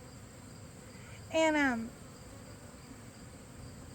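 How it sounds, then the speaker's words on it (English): Honey bees buzz around a hive while a swarm is added to strengthen a colony, a steady hum that fills the whole stretch, with a brief spoken word cutting through near the middle. "I'm going to have to be right back because these bees are mad at me"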